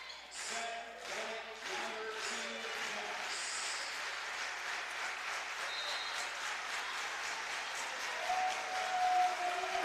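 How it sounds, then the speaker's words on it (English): Volleyball crowd at a college match between Alaska and Findlay claps and cheers steadily in an arena, with scattered whoops and a public-address voice briefly heard over the applause. "Crowd going to make some noise."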